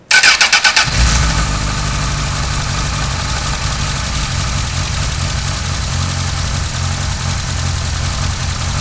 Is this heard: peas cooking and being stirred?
no